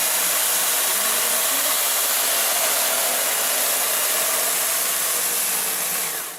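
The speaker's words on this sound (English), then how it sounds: "because it's spinning at such a high RPM with a double chevron roller, this vacuum cleaner will have no suction down below" A Lindhaus HealthCare Pro HEPA upright vacuum cleaner with a high-speed double chevron roller runs steadily, a loud, continuous broadband whir heard alone without talk that begins to fade at the very end.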